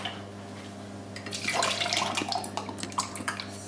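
Buttermilk pours into a bowl of flour and bread soda for bread, a close, wet gushing splash that begins partway in and trails off into softer glugs.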